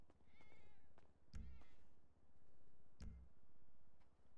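Cats meow in a cat cafe inside a roleplay video game, a few short mews over a soft rhythmic ticking background, fairly quiet and close.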